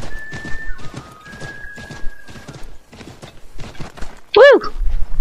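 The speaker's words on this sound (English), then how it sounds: "There's no more glitchy horse." Horse in the video game Assassin's Creed III, with hooves clopping in a loose rhythm under excited talk from a woman, then a loud, close whinny bursting out near the end.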